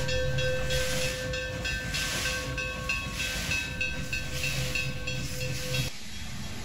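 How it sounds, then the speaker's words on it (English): Narrow-gauge K-36 steam locomotive No. 480 departing Durango for Silverton at the head of a train, loud continuous steam hiss with a sustained whistle tone, close by, cutting off abruptly near the end. "480 on the head of train 463 departs Durango for Silverton"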